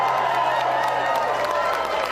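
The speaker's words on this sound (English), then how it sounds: "to raucous applause" Raucous applause at a White House state dinner, a dense wash of clapping and crowd noise filling the room continuously.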